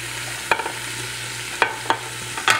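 Finely chopped leek and diced onions being stirred in a pot set to sauté: a handful of short scraping stirs, spaced irregularly, over a steady low hum and faint background hiss.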